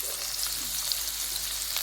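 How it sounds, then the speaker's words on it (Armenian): Chopped vegetables fry in a pan with a steady, close sizzle throughout, no voices present. "Եկեք թողեմ թող տապակվի։"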